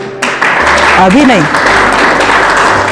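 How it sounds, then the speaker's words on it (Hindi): A church congregation claps together in a dense, loud burst of applause, with a voice speaking over it. "कभी कभी ताली भी बजाया करो"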